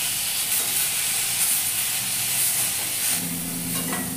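Pieces of hilsa fish frying lightly in a pan give a steady, even sizzle and hiss throughout, with no talk.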